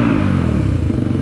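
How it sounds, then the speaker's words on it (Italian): A Keeway TXM motorcycle with a full Black Widow exhaust revs hard and loud with a deep, rumbling exhaust note that stays steady and close throughout. "è giunto il momento di provare questa moto con lo scarico completo."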